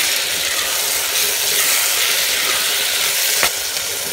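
Steady, loud sizzling of ginger garlic paste frying in a hot pan, continuous throughout, with a brief sharper crackle near the end.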